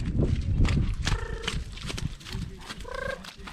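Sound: horse walking with a limp, hooves clip-clopping

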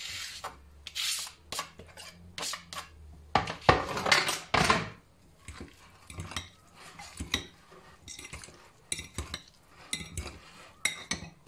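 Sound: tuna salad ingredients transferred into a salad bowl

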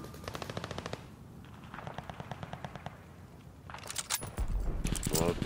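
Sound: gunfire in video game

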